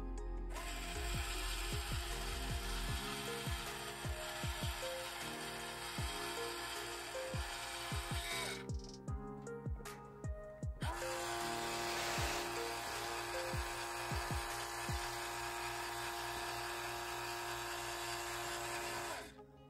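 Small electric motor of a vintage Star Wars toy elevator whining steadily for nearly twenty seconds, close and loud, with a brief pause midway and repeated clicks or knocks over the hum.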